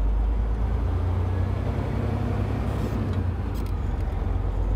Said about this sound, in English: I put my truck in low gear because I'm going up a hill, and I just let the clutch out.